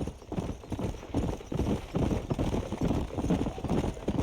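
Horse hooves clip-clop steadily in Red Dead Redemption, a fast, even trot of overlapping hoofbeats that carries loudly throughout over a soft wind-like backdrop, with no voices.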